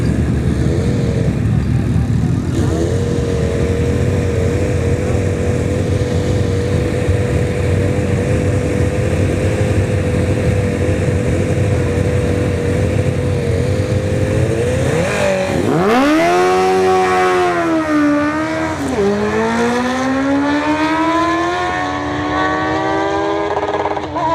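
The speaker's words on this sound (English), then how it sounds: "We got the 2 Honda CBR 1Ks. Or 1000s." Two stock Honda CBR 1000 motorcycles at a drag strip test-and-tune: a loud, steady engine drone holds, then the bikes launch with sharp rising revs and quick gear shifts climbing again, close and dominant.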